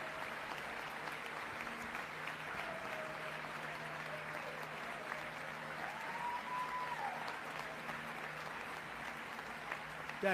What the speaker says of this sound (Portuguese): E eles levantam e aplaudem.